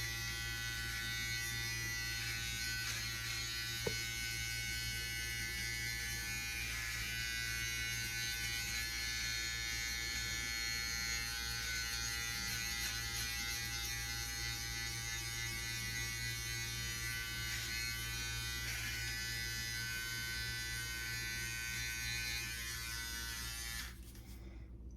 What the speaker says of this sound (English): pretty awesome beard trimmer by Philips Norelco